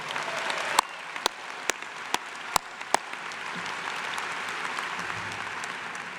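A large crowd at a fall bachelor's commencement ceremony gives a round of applause for the university president, Bud Peterson, with dense clapping and a few sharp, loud claps standing out near the start.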